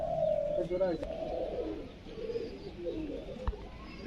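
High-flying pigeons at a loft in Krishnanagar coo softly throughout, a steady low murmur of several birds close by, with a brief thump near the end.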